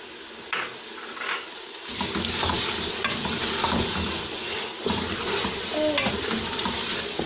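Turnip bhujia with green chili fries in a pan while being stirred, a steady close sizzle broken by scraping and clinking of a spoon against the pan, with the frying growing louder after a quieter start.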